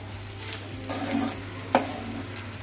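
Egg fried rice stirred in a hot pan, a soft sizzle with a few scraping spatula strokes and one sharp clink against the pan.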